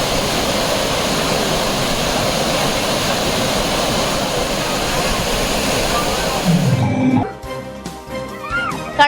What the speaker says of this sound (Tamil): குற்றாலம் மெயினருவியில் நேற்றைய தினம் சுற்றுலா பயணிகள் குளித்துக் கொண்டிருந்த போது திடீரென வெள்ளப்பெருக்கு ஏற்பட்டது